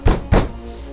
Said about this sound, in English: sounds like a hefty knock